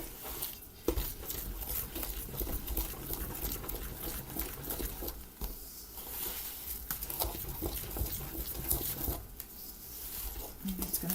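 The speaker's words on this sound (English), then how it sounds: "And I'm going to start stirring that up." Butter and flour being stirred into a thick dough for Sicilian Easter pupa con l'uova, with steady wet patting and squishing of the mixture close by and no talking.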